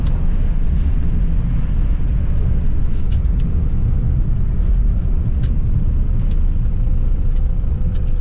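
Ford F350 extended cab pickup truck driving along, a steady loud low-frequency road and engine rumble throughout with no voices.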